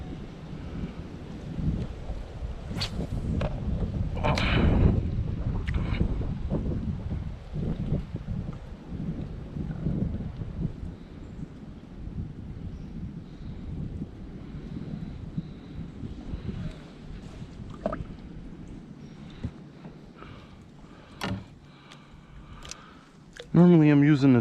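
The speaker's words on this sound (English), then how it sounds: "Pretty windy out here today." Strong wind gusting across a microphone outdoors beside a river while fishing, a steady broadband rush with buffeting surges throughout, and brief voices or handling noises breaking in.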